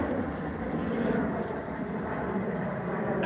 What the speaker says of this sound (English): a super loud plane going overhead